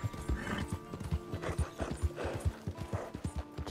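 Steady clip-clop of horse hooves at a trotting rhythm, close and distinct, with a faint whinny mixed in, in the video game Red Dead Redemption 2.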